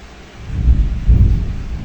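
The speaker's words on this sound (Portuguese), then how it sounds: "uma chuva. Que chuva." A thunderstorm outside with heavy rain, deep low thunder rumbling loudly in two swells over a constant rush of rainfall, with no voices.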